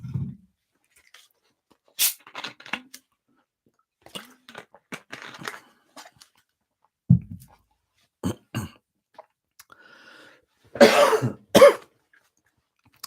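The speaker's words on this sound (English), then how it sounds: "I've got a cough" Scattered coughs and throat clearing at close range, separated by quiet pauses and soft mouth noises, ending in a louder burst of coughing.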